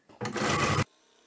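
A sewing machine runs a short burst stitching a quarter-inch seam on upholstery fabric for a crossbody bag, loud and close, starting abruptly and cutting off after about two-thirds of a second.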